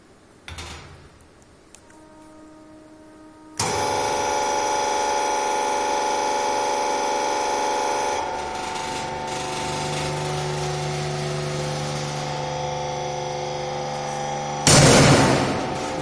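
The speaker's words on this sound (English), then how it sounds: "Let us start the machine by opening the control valve itself." A universal testing machine starts up for a tension test, its hydraulic drive kicking in with a loud, steady mechanical hum and whine that shifts partway through, then a sharp loud burst near the end as the specimen is pulled.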